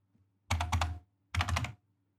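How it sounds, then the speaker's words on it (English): Two quick bursts of computer-keyboard typing, each a rapid cluster of clicks lasting under half a second, separated by a short pause, close and clear with no talking. "So I can just type in"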